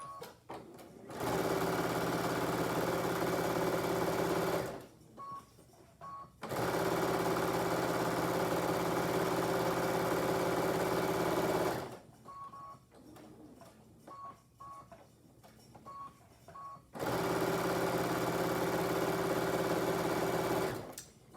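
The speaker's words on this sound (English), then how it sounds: "I'm gonna go ahead and sew around my 3 edges" A sewing machine stitching around the edges of fabric for a rabbit bed runs in long steady whirring bursts, close and loud, broken by short quiet pauses with faint handling noises.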